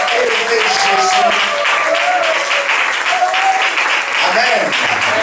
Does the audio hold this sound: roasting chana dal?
no